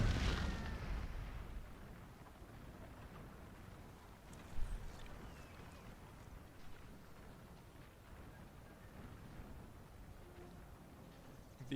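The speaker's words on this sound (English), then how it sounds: "The battery switch to round shot and open up on that hill." Artillery battery firing round shot during a battle in Napoleon: Total War: a steady low rumble of distant cannon and battlefield noise, with one duller boom standing out midway, all fairly faint.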